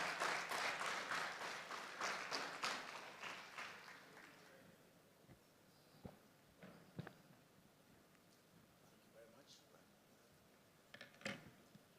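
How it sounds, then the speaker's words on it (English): A conference audience at a World Trade Centers Association general assembly gives a short burst of applause for a traditional ruler. The clapping fades within about five seconds, leaving faint room noise and a few scattered knocks. "A round of applause for His Royal Majesty."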